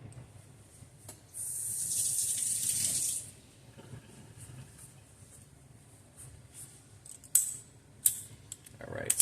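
Tap water runs in a steady hiss for about two seconds while an Ichang lemon is rinsed at a sink, then fades into quieter handling noises and a few sharp clicks near the end.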